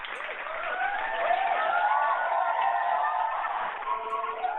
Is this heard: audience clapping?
yes